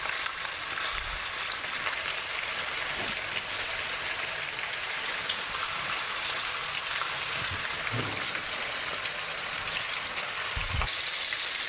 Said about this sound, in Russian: И начинаем обжаривать с двух сторон